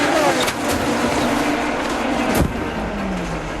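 An IndyCar crash as Brack's car slams into the catch fence, a loud sustained roar of engine and impact noise with a sharp downward-sweeping screech near the end, then a fading whine.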